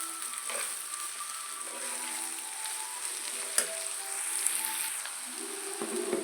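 Onions frying in a pan for a dried prawn and omelette-piece curry, a steady close crackling sizzle with one sharp tap partway through and no talking.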